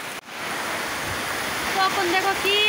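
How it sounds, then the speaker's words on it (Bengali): Heavy rain pours down in a steady, dense hiss, loud and close, with a few faint bird chirps rising near the end. "তখন দেখো কি কত মানে প্রচন্ড বৃষ্টি, এই দেখো অনেক বৃষ্টি"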